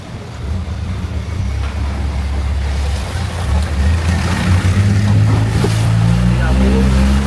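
Longtail boat engine running steadily on a canal at a Bangkok-area floating market, a loud continuous low drone with rising throttle toward the end, with some voices faintly mixed in.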